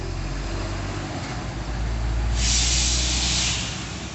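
A truck passing by on a street, a broad rising and fading rush of engine and tire noise with a hissing swell that peaks midway and then recedes.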